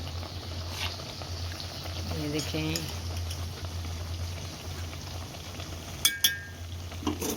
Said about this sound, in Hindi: ये दाल उबल रही है